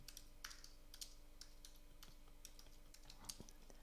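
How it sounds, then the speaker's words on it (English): Rapid typing on a computer keyboard, a quick irregular clatter of key presses, close but quiet against a low electrical hum. "Furious typing."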